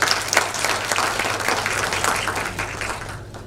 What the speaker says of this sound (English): Yeah, clap for that then.